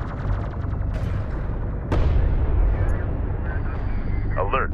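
Turret post destroyed by gunfire in the video game Homeworld: Deserts of Kharak, heard as a burst of heavy battle noise with a sharp impact near the middle and continuing rumble, partly under radio-style voices.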